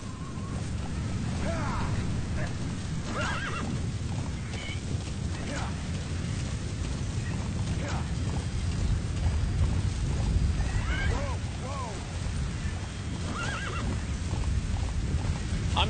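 Hooves clatter steadily from a horse in Metal Gear Solid V: The Phantom Pain as it rides along, broken by several neighs and snorts spread across the stretch, close and prominent over a rumbling game backdrop.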